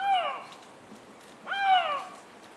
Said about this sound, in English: The lynx in heat.